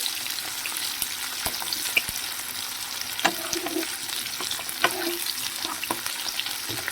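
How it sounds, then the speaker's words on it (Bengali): Garlic and chillies fry in hot oil, a constant crackling sizzle with occasional sharp spatula taps and stirring scrapes, close and fairly loud, with no voices. "রসুনগুলোকে একটু ভেজে নিতে হবে"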